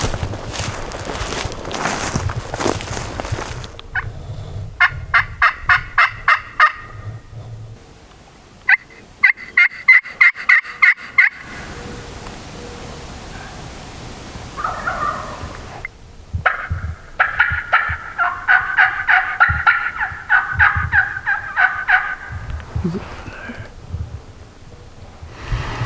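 A wild turkey gobbler gobbles again and again during a spring hunt in remote public woods. The bursts come in rapid rolling clusters at moderate distance, with footsteps crunching through brush and quiet breathing between them and no talking.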